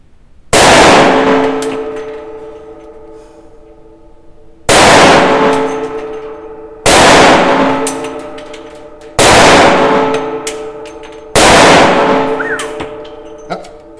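Five loud Coonan .357 Automatic pistol shots ring out at a steady, unhurried pace, each sharp crack followed by a ringing steel-target clang that decays over about two seconds.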